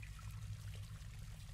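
Water poured from a pot in the German-language adventure game Legends of the World: Stonehenge, a short steady splashing trickle with a low rumbling bed, heard alone without any talk.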